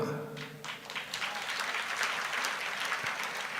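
Loud, dense applause from a church congregation fills the space, a steady wash of many hands clapping at once with no gaps.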